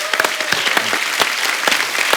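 Studio audience applause on a Hindi comedy talk show, lively, close clapping with distinct individual claps popping out of the crowd wash for a couple of seconds.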